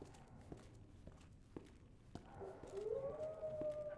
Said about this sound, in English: There are more dogs.